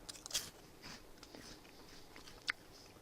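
Eating C-shaped crisps close up: a few sharp, crisp bites and crunches at intervals in an otherwise quiet room.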